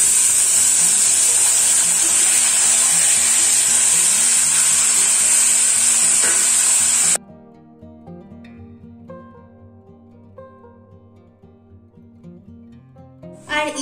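Chicken pieces dropped into a pan of fried onions give a loud, continuous close sizzle for about seven seconds, then the sound drops away to quiet kitchen noise with faint clinks.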